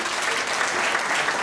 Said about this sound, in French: Merci de l'applaudir encore une fois le ministre d'État